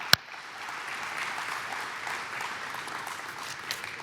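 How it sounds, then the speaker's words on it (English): A crowd at a cooperative's annual meeting gives a round of applause, a sharp click opening into steady, moderately loud clapping from many hands that carries on evenly for several seconds. "So if those people would please stand and we give a round of applause for them."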